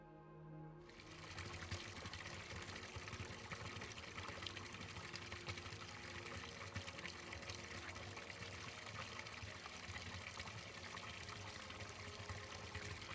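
Water pours steadily into a garden pond on a steep slope, a continuous broadband rushing and splashing that starts abruptly and holds at an even level throughout, with no voices.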